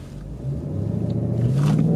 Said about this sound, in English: We'll go to a dead stop and see what launching it is like.